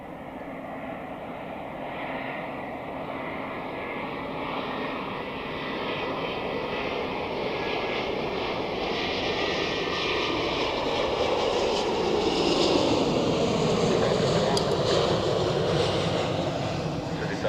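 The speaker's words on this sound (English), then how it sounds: "second Airbus A350 landing of the day" An Airbus A350 lands at Zurich Airport, its engines a loud, sustained roar that builds gradually and holds steady, broad and close throughout.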